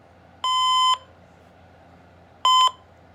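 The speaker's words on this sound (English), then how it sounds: "it did the test beep" Two electronic beeps from a First Alert WX-167 smoke alarm test, a longer steady tone followed after a pause by a shorter one, clear and fairly close over faint background hiss.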